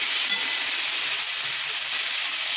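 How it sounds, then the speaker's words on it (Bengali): Potatoes and eggplant fry in hot oil as they are stirred, a dense, even hiss of sizzling that stays loud and steady throughout. "আলু বেগুনটা ভাজা ভাজা হয়ে গেছে।"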